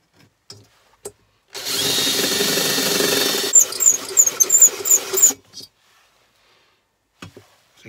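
A cordless drill whirs for a couple of seconds, then bites and squeals in short bursts as it bores a hole through a helium bottle, with quiet pauses before and after.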